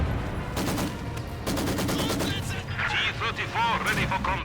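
Sustained bursts of Maxim machine gun fire in Company of Heroes 2 mowing into Panzers, dense rattling volleys mixed with battle noise and booming impacts, with a commentator's voice running over the gunfire.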